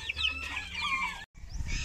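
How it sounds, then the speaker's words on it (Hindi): Hens and chicks at a backyard poultry setup in Pakistan, with a rooftop area holding many chicks; dense, overlapping clucking and chirping continues close by, briefly cut by a short silent gap near the end before the calls resume. "इसके अलावा छत पर बहुत सारे चूज़े पड़े हुए हैं"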